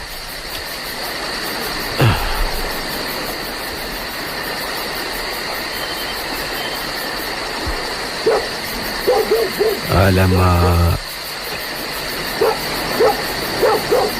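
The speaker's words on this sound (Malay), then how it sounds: "Bunyi anjing pula." A dog barks out in the open on a cold night with rain coming, a few short yips and barks standing out over a steady backdrop of wind or rain noise, with a brief dense burst of barking near the end.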